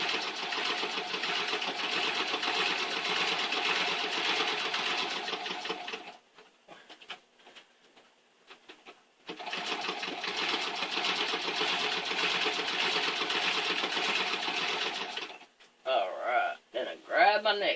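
A treadle sewing machine runs through quilting in two long, steady stretches with a short pause between, then a few brief stops and starts; a person talks during the pause and near the end.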